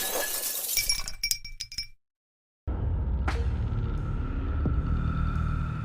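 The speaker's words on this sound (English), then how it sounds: "The coffee cup slipped from my hand, crashing to the floor and shattering into pieces." A ceramic cup crashes and shatters, a sharp clatter of breaking pieces and tinkling shards, then brief silence before a steady low rumble fills the background.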